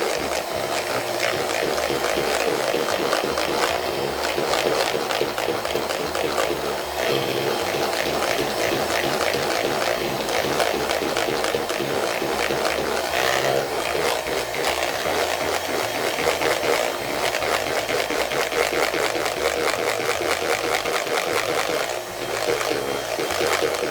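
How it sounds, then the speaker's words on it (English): An electric whisk on turbo beats eggs and sugar in a bowl, a steady close buzzing whir with rapid rattling pulses that runs unbroken for the whole stretch. "I just whisk a minute or more with the turbo"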